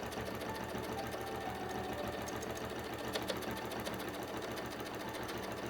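A sewing machine stitches a wavy quilting line through fabric, its steady rapid mechanical whir running close and continuous without pause.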